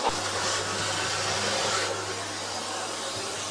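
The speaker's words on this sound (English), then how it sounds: "I'm not going to bore you with watching me vacuum" A vacuum cleaner runs at a Portuguese off-grid farm, a steady, loud, broad whooshing roar with a low motor hum underneath, continuous for several seconds with no one speaking.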